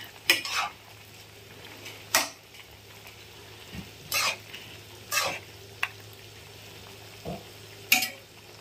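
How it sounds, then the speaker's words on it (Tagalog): Food stirred in a frying pan: a spatula scrapes and clanks against the pan about seven times at irregular intervals over a faint steady sizzle. "Haluin ko muna."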